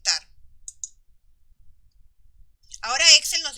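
A mouse click on the accept button in an Excel dialog, heard as a pair of short, sharp clicks in near silence, followed by a voice speaking.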